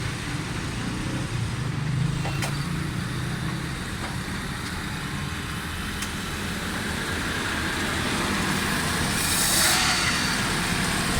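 A Suzuki Alto 1000cc car on a test drive gives a steady, moderately loud engine and road rumble from inside the cabin, with faint clicks and no speech.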